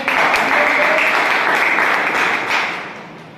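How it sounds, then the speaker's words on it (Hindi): Loud, sustained applause from an audience at an RCM gathering in Farukh Nagar, Rewari, steady clapping that thins out and fades over the last second. "सर के लिए एक बार जोरदार तालियां"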